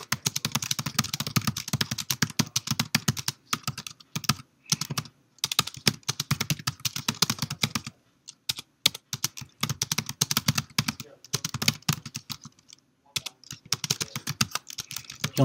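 Fingers type on a computer keyboard in quick uneven bursts of close key clicks, separated by short pauses.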